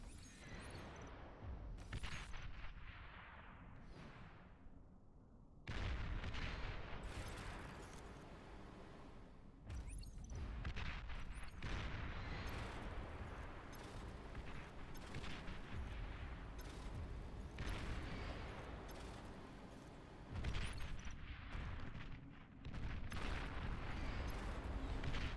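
A tank firing in the strategy game Beyond All Reason, with dense rumbling booms and blasts layered over ongoing battle noise across the whole stretch, loud and continuous with brief lulls.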